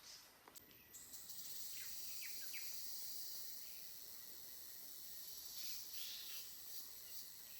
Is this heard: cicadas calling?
yes